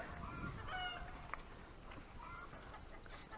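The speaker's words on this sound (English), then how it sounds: "those chickens do not like anything flying above their coop." Chickens in a backyard coop let out faint clucks and short squawking calls over a steady wash of outdoor background noise.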